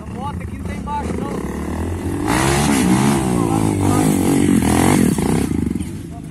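A dirt bike engine revs hard and loud close by on a trail ride at Lagoa da Prata, its pitch climbing and wavering as it strains uphill, with voices faintly underneath.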